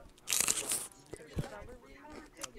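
Celery munched close to the microphone in a Roblox voice chat hangout: a burst of crisp, wet crunching at the start, then quieter scattered chewing crackles and a soft thump, with a faint voice murmuring underneath.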